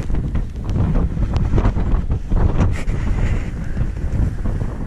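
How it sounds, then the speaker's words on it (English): Strong wind buffets the microphone in continuous roaring gusts on high ground above tidal water on Scalpay, with a faint wash of water underneath. "it's very windy up here."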